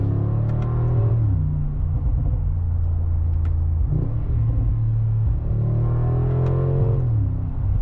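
2025 Mercedes-AMG G63 V8 SUV rumbles deeply while driving, a low steady engine drone with repeated rising and falling rev sweeps and a few faint muted pops, heard from inside the cabin.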